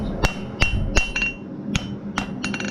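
A hammer rings against a hot railroad spike knife being straightened at the forge, about eight sharp metallic blows at an uneven pace, close and clear.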